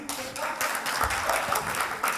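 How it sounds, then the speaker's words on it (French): Comedy club crowd breaks into applause for a comic being introduced on stage, a brief burst of mixed clapping from the audience at moderate volume with a few sharper claps standing out. "Sous vos applaudissements"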